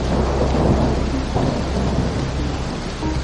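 Thunder in a summer storm in Washington: a loud, deep, continuous rumble that rolls without a break, with rain hissing underneath.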